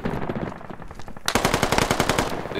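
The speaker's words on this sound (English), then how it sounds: "They're shooting us to the right." Rapid automatic gunfire in the video game Squad, a fast rhythmic burst that turns louder and closer partway through and keeps rattling to the end, with no talk.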